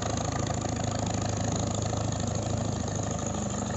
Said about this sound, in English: A 1942 Case tractor